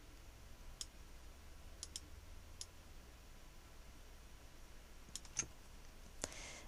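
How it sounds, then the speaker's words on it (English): Faint, sparse mouse clicks in Xara Designer Pro X, with a few isolated sharp ticks and a couple of quick doubled clicks over a quiet background hum. "You can actually hold the control key and just simply click each one to erase."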